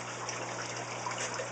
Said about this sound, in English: There's water coming out of it.